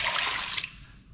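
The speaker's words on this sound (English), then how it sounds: "now we'll go ahead and add the water," Water poured into a bowl of flour for sourdough bread dough: a loud, close, steady rushing splash for about half a second, then cutting off abruptly into quiet room tone.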